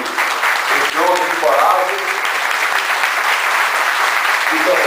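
An audience applauds at an inauguration ceremony, dense continuous clapping close by, with a voice speaking over it early on.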